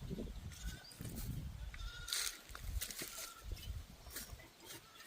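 A goat bleats several times in short wavering calls outdoors on a farm, fairly close, amid rustling and other background noise.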